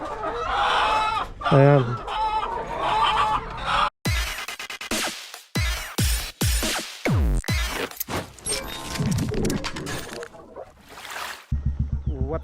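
Hens clucking around the nesting spots where eggs have been laid, with a rooster crowing as well. The birds sound close and busy, and someone speaks briefly at the start.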